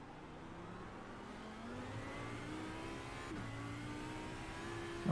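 Audi R8 LMS EVO II GT3 engine in iRacing at Circuit Gilles Villeneuve in the wet, a steady mid-level drone with a rising then dipping whine as revs shift, heard from inside the car with a sharp burst at the end.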